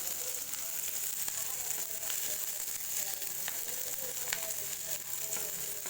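Valarai greens sautéing in a pan for thuvaiyal, giving a steady soft sizzle and crackle with occasional small pops, close by and continuous.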